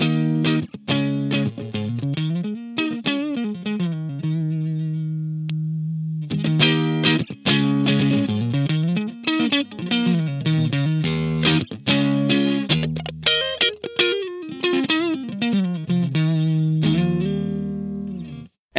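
A single-coil electric guitar run through the clean boost on an AXE MX300 multi-effects unit, hotter and slightly gritty: fluid lead phrases with bends, slides and sustained notes, played continuously and loud, without any voices.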